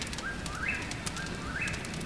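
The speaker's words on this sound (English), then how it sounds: "This is the call of the eastern whippoorwill." An eastern whippoorwill calls at night at a Blue Ridge Parkway campsite, repeating its rising three-part whistle about twice a second, moderately distant over a steady hiss of background noise.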